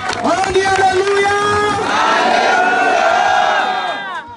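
A church congregation cheers and shouts acclamations together, many loud voices rising in sustained, ringing whoops and cries that swell and then taper off.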